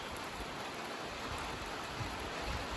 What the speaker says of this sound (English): raining at Johnson Creek